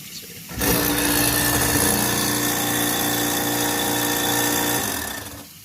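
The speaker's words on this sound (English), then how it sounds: "let me flip on the switch and make sure it's working" An InSinkerator Badger 5 garbage disposal whirs on abruptly with a loud, steady mechanical drone, runs for about four seconds, then winds down.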